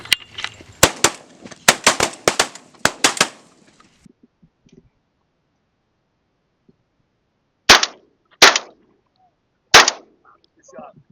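Shotguns fire at a dove hunt in the Oklahoma panhandle. A rapid burst of sharp, loud blasts comes first, then a quiet pause, then three more widely spaced shots.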